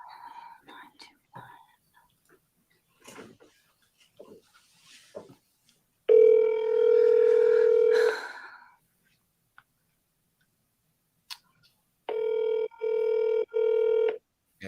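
A phone dials out and rings twice, each steady tone sounding alone between stretches of faint, whispered talk.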